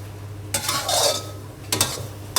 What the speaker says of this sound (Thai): แล้วหลังจากนั้นคลุกเคล้าทุกอย่างให้เข้ากันครับ